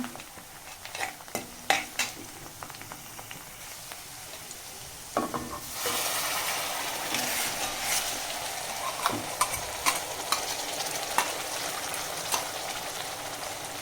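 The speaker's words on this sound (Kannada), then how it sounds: "ಇವಾಗ ಈ ಮಸಾಲ ಆನಿಯನ್ ಜೊತೆ ಚೆನ್ನಾಗಿ ಫ್ರೈ ಆಗಬೇಕು." Green masala fries with onions for a spicy green chicken dry, with scattered utensil scrapes at first, then a louder steady sizzle after a few seconds, punctuated by regular stirring clinks, close up and without speech.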